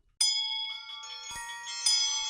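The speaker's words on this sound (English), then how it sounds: "The bells through the house! They are all ringing!" Several bells ring together through a house, a radio drama sound effect, with bright, sustained metallic tones, swelling and overlapping, with a brief low thud partway through.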